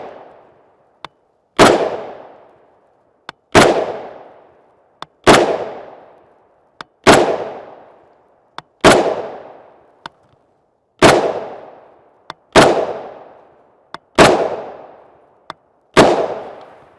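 A Springfield M1A rifle firing .308 Winchester 150gr JSP rounds: about nine loud, sharp shots spaced roughly evenly, each with a long decaying echo, and small clicks in between.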